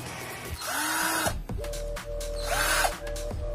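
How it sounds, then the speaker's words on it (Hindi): A cheap 12-volt cordless drill machine runs in two bursts, each whining up in pitch, holding a steady high buzz, then winding down, with a short pause between them. "तो ये एक 12 वोल्ट की ड्रिल मशीन है"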